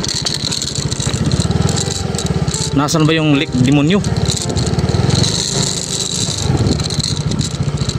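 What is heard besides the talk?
motorcycle riding over a rocky road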